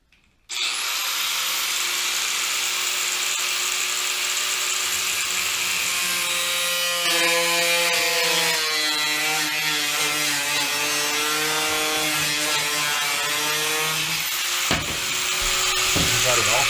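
A power saw cuts through a wood piece trimmed to fit an RV bathroom fan, a steady loud whine running almost unbroken from start to finish with a shifting tone partway through.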